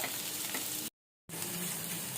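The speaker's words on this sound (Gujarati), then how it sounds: "આપણે આની અંદર કેપ્સિકમ એડ કરશું।" Capsicum fries in oil with ginger-chili-garlic paste for hara bhara kabab, a soft, steady sizzle broken by a brief silent gap.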